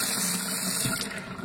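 An ordinary kitchen faucet with an aerator runs steadily into a sink, producing a continuous close-up hiss and rush of water with no pauses or voices.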